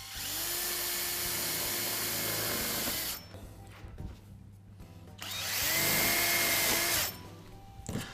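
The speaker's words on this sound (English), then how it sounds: "Then I place the outlet at the cut end and fasten it with screws." Power drill driving screws to fasten a gutter outlet onto the cut end of a downpipe, two loud sustained whirring bursts of about three and two seconds separated by a quieter pause, close by with no speech.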